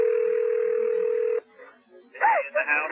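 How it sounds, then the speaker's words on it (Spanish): A loud, steady telephone tone holds for about a second and a half as a 911 operator places a call back to a house. The line then goes quiet briefly before voices begin speaking. "El operador del 911 llamó a casa de Amy."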